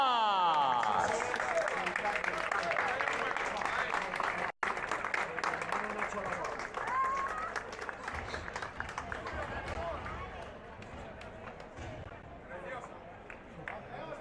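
Applause for trophy winners at a trail race award ceremony, a dense sustained clapping from a crowd that starts loud and slowly thins, with a brief dropout partway and faint background chatter.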